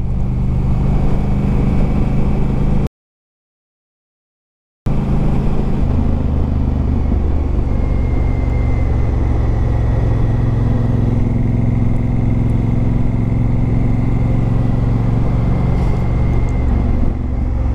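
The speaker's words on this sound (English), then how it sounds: "nothing but you, the air, and the sound of that wonderful exhaust" Honda Africa Twin motorcycle exhaust while riding on a quiet country lane: a steady, loud engine drone with wind rumble that runs unbroken except for a short dropout, and no talk.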